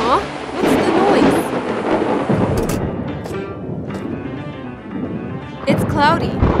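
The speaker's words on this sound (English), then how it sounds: "Thunder and lightning ahead!" Rumbling thunder rolls over steady rain, with animated character voices and cartoonish sound effects layered on top.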